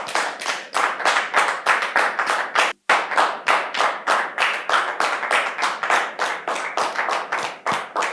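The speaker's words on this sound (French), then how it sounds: "Il s'agit d'un bien-aimé que nous allons recevoir avec les applaudissements du public." A studio audience claps steadily to welcome a guest onstage, dense applause running loud and continuous with one brief gap near the middle.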